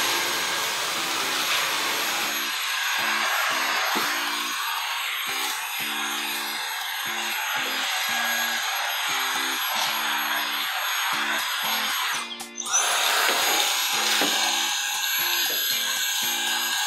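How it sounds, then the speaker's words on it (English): Handheld cordless Dyson vacuum cleaner sucking up loosened crumbs inside an oven, a steady close, loud whine with a broad airy roar, briefly dipping near the end before resuming. "I'm just gonna vacuum up everything I loosened up."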